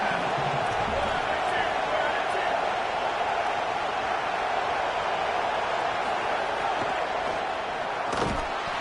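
A steady, dense roar from a football stadium crowd holds through the whole stretch while the opposing offense is pinned deep in its own end, with a commentator talking over the din.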